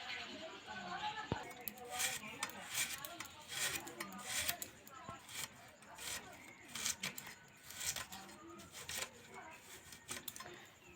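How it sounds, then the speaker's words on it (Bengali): Kitchen knife finely chopping three peeled carrots on a board, a rapid irregular run of crisp sharp cuts, close and quiet, with a voice speaking at times in between. "এরকম করে কুচি কুচি করে কেটে নেব"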